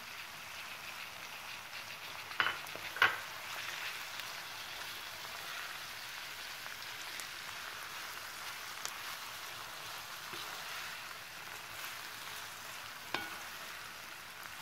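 Tomatoes simmering in a pan for a vegetarian pasta sauce give a steady, soft, low-level bubbling sizzle, with two or three faint clinks early on and no talk.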